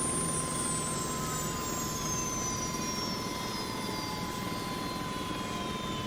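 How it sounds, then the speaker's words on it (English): An MBB Bo105 helicopter in X-Plane 12 spools down as its number 1 engine is shut off, a steady turbine roar with a high whine that slowly falls in pitch throughout. "in this exercise we're going to shut down engine number 1 first"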